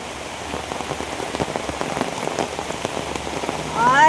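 Heavy rain pours down on a farmhouse plantation garden, a dense, steady patter of drops hitting surfaces close by, with no voices and a brief chirp near the end.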